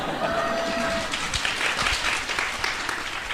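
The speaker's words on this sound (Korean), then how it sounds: "아마 이 박수 치는 부분부터 나갈 거예요." An audience at a Korean book concert breaks into steady, rippling clapping that holds at a moderate level from start to finish, with faint voices mixed in.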